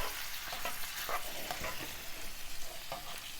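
Green onions frying in a pan for vegan pad thai, giving a steady close sizzle with brief stirring scrapes and clicks throughout, no talking.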